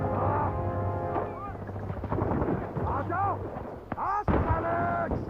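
A grenade explosion in a movie action scene bursts among loud gunfire bangs and a helicopter-like roar. The sharp blast lands near the end of a busy, dense soundtrack, with voices talking over it.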